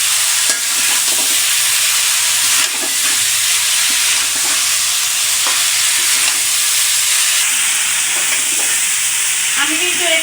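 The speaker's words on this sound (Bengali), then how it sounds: "আমি কিন্তু একটু আলুগুলো সহ মাছগুলো সহ এই মশলাতে ভালো করে একটু কষিয়ে নিচ্ছি।" Eel and potatoes frying in a spice paste, a steady loud sizzle with scraping stirs of a spoon in the pan, continuous throughout with no talk.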